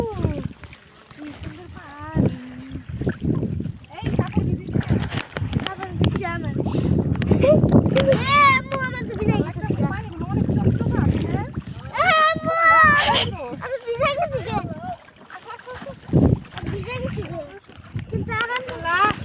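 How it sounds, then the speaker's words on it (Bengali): A boat crosses a river, with water splashing and sloshing around it and wind buffeting the microphone, mostly under near, continuous talk from adults and a child. "নদী পার হচ্ছি"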